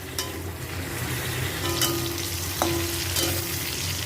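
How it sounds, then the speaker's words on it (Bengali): Cauliflower seasoned with salt and turmeric fries in hot oil, a constant close sizzle broken by a few scraping stirs of a spatula, with no talking. "কপিটাকে একটু লাল করে ভেজে নেব।"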